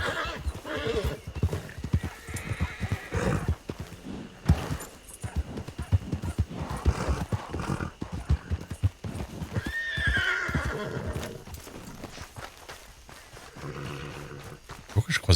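Horse hooves clip-clop close by, mixed with loud neighing and whinnying, near Farnham in Surrey; the hoof strikes come in uneven bursts over a busy, noisy background throughout.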